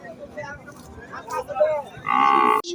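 Sahiwal breed bull on a farm, one close, loud, drawn-out moo near the end, with someone talking over the start.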